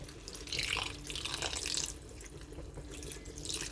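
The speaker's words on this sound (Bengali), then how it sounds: "ব্যাস, এবারে জল দিয়ে দেবো।" Water is poured into a pan holding a fish head with fried pumpkin and potatoes, a faint, steady splashing pour that swells and eases over a few seconds, with no voices.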